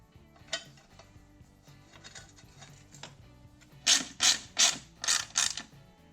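A ratchet turns the bolts of a YZ250 dirt bike's frame guard, with faint ticking at first, then five loud, close bursts of rapid clicking in quick succession.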